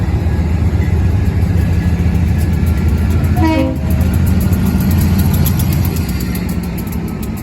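Diesel freight locomotive 4005, a B40-AW fitted with an RS3L horn, leads a Pan Am Southern freight train near Ayer, Massachusetts, with a loud, steady, close engine rumble throughout and a brief rising tonal sweep midway.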